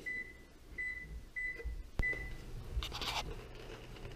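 An oven control panel beeps as it is set to preheat to 325 degrees, a few short, evenly spaced electronic tones followed by a click and faint handling noise, quiet overall.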